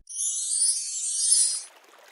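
A cartoon river stream flows where two brothers bathe, heard as a steady, bright rushing hiss that holds for about a second and a half and then cuts off abruptly, leaving only faint trickling.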